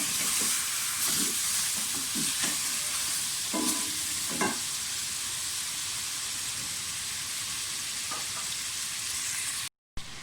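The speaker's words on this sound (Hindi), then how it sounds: "पाँच छः मिनट चिकन को फ्राई करेंगे ताकि इसका कलर जो है वो चेंज हो जाए" Chicken frying in a pan for gravy, a steady close sizzle and hiss throughout with occasional soft stirring scrapes, no voices, briefly cutting out near the end.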